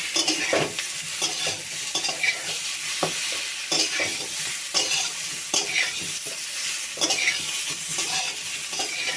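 Potatoes and pointed gourd fry in a pan with spices, a continuous loud sizzle broken by frequent scraping stirs of a utensil, close up with no talk.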